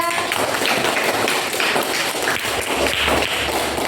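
Students in a classroom applaud a presenting group with steady, dense clapping from many hands lasting a few seconds at an even loudness.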